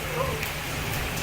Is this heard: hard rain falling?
yes